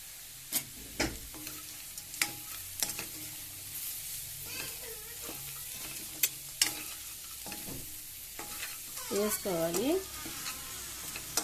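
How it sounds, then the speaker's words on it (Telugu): Urad dal vadiyalu frying with onions in a pan, with scraping stir strokes and a soft sizzle, plus a brief tonal squeak of the spoon near the end. "సన్న సిమ్లో పెట్టుకుని వేపుకోవాలండి, లేకపోతే మళ్ళీ అడుగంటుద్ది"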